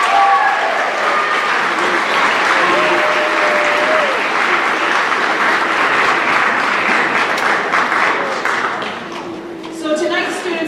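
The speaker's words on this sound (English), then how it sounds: "Students, can you give your parents a round of applause, please?" Junior high students at an awards night give their parents a long round of applause, a steady, dense roar of clapping from a large indoor crowd that dips near the end as a voice speaks over it.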